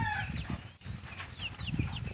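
Rhode Island Red chickens mixed with native fowl cluck outdoors on an overcast farm among other livestock. Several soft, close clucks and calls repeat irregularly over a steady low rustle, with no talking.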